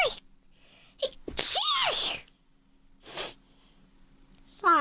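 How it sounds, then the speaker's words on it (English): A woman sneezes forcefully, a sharp explosive burst with a sniffing intake before it, followed by a shorter second sneeze-like gasp and another breathy snort at the end, close and loud in a quiet room. "I have to sneeze."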